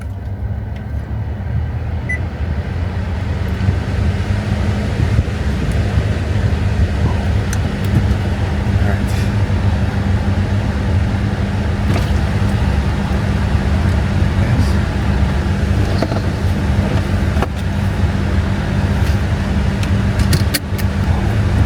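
A car idles with a steady low engine hum while being tested after an oil change and air filter replacement, accompanied by faint clicks and jangles, with occasional talk nearby.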